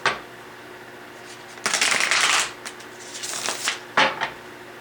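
Tarot cards being shuffled and drawn, a burst of riffling followed by softer slides and a few sharp card snaps, close and alone without talk.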